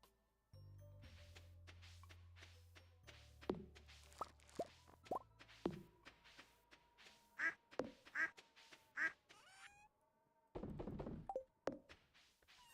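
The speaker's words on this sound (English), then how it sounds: "My duck sounds very talkative this morning." A farm duck in the video game Stardew Valley quacks several times amid soft game plops and chimes, each call short and clear over quiet background music with no talking.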